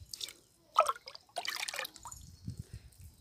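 Liquid fertilizer poured onto the soil at the base of garden plants in a home garden, heard as a few short splashing trickles and drips separated by quiet gaps, close by, with no speech.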